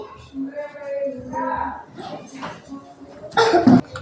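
A person talks briefly, then a harsh burst of coughing breaks out near the end, close and loud.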